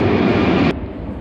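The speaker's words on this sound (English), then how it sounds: "Right, bloody planes." Loud broadband roar of an airplane passing overhead, steady for most of the moment and then dropping off abruptly to a quieter rumble, with no voices.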